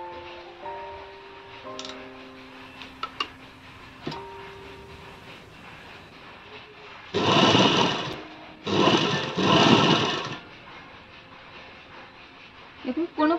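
A sewing machine stitches a net saree being cut into a long gown, two loud bursts of running stitches close by, with quieter clicks and handling sounds between them.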